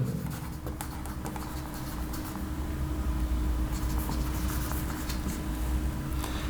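Chalk or marker taps and scratches on a board during a math lecture, with short strokes over faint room noise and no talking.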